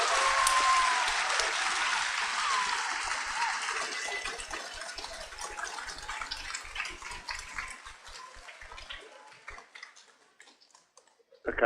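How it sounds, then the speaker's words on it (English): A room of students applauds an astronaut: dense, loud clapping at first that slowly thins out and fades over about ten seconds, ending in a few scattered claps. "Give them a nice big round of applause for the help."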